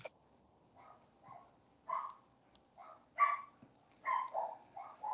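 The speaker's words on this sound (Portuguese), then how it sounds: "tem um barulho de fundo aqui, cachorrada." Several dogs barking in the background, a pack of distant yaps and barks coming in irregular bursts through the clip.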